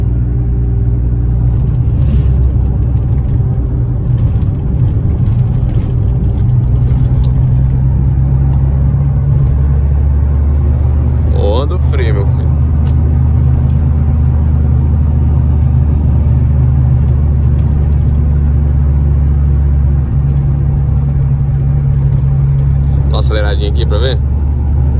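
Volkswagen Gol with a 1.6 AP engine producing a loud, heavy low rumble that holds steady throughout, heard from close by, with a couple of brief voices cutting in.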